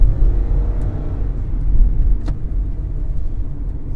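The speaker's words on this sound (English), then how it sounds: "done some modifications to the airbox, so as you may be able to hear it" Car with an AEM air filter and modified airbox, a steady low engine and intake rumble heard from inside while driving, fairly loud and continuous with no talk.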